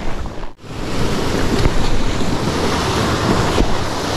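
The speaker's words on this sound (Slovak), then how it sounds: "Tu je taký vodopádik." Small waterfall at a horse wellness area, a constant loud rush of falling water with some wind buffeting on the microphone, briefly dipping near the start.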